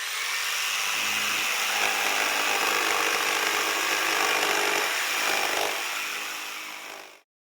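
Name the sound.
circular saw cutting wood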